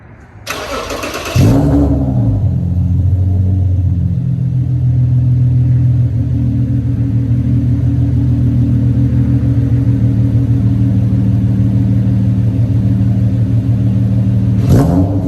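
A Nissan VQ-engined car with a single 3-inch exhaust starts up with a sharp burst, then settles into a loud, steady, deep idle rumble that holds close and constant for the rest of the stretch, with a brief blip near the end.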